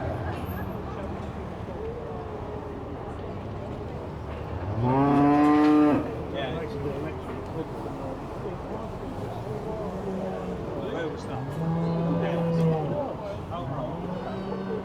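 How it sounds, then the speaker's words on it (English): Highland heifers and other cattle at an agricultural livestock show in Uppingham, two long, loud moos rising over crowd murmur and talk, one near the start and another a few seconds later. "It is a Highland heifer, indeed it is."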